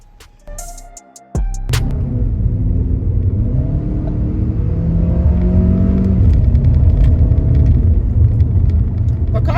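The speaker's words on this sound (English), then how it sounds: "I know you can hear the gearbox scream" Loud engine of a Jetour T2 SUV droning steadily from inside the cabin, with a rising gearbox whine in manual mode layered over the rumble after a brief burst of clicks and tones.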